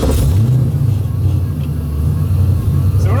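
A car's engine rumbles loudly and steadily as it pulls away, low droning tones rising and holding through the drive, with some faint talk beneath.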